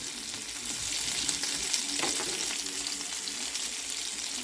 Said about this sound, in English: Just heating up those potatoes.